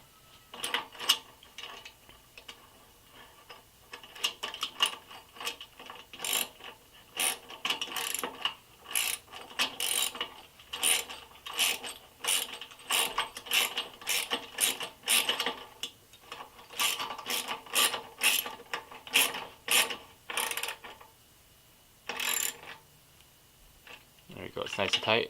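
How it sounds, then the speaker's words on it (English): A wrench ratchets on the rearset bolts of a Honda Ruckus, making long runs of quick, crisp clicking strokes close up, with a few brief pauses before the clicking starts again. "start tightening the two. Now remember, that backing nut is going to start moving in as you're tightening it"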